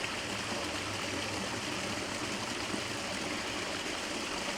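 A small rapid on a stream rushes and splashes steadily at close range, a continuous broadband wash of flowing water with no pauses and no voices.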